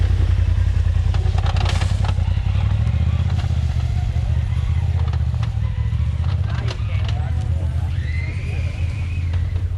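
A four-seater side-by-side UTV rolls down a rocky ravine trail with a loud, steady low engine drone, intermittent clatter and knocks, and people talking nearby.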